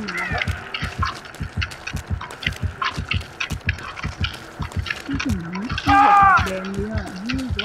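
A rhythmic heartbeat pulsing steadily in Dead by Daylight Mobile, soft repeated low thumps running throughout beneath a person talking.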